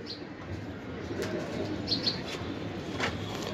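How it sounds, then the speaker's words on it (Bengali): Pigeons of the Chiga blood variety, kept in a loft, giving soft cooing calls and a few brief chirps over steady low background noise, with faint wing flutters nearby. "এটা হলো চিকা ব্লাডের একটা কবুতর"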